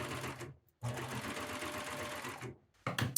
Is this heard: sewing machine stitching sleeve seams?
yes